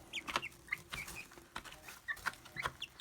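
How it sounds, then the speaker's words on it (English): Baby chickens peep and cluck softly in quick, irregular bursts, close but quiet, with no talking. "all these are supposed to be laying hens"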